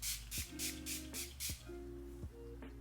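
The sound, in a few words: rose water facial setting spray sprayed on skin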